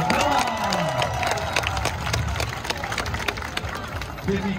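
A crowd in Melbourne on Christmas Day claps and cheers, shouts and whoops mixed into a busy roar of applause with voices talking over it throughout.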